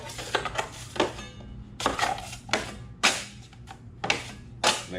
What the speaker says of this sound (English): After I get a good mixing on it, take my 6-inch knife